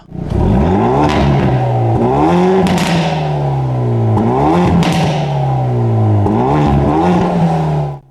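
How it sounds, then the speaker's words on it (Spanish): Exhaust of a Korean compact car in N mode, revving loud and close: repeated rises and falls in engine pitch, with crackles as the throttle drops, and no talk. "El modo N lo pone todo al máximo, incluido el escape, que suena bastante bien, así que vamos a escucharlo."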